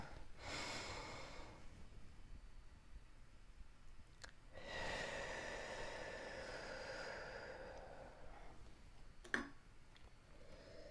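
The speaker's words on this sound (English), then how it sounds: "I'll just take one deep breath" A single deep breath taken close by: a drawn-in inhale, a short pause, then a long, slow exhale, followed by a faint click and quiet room tone. No one speaks.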